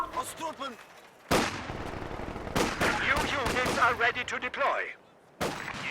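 Gunfire in a Thai-commentated video game match, with loud, sharp shots and bursts that start abruptly and repeat through the middle, and someone talking excitedly under and between them.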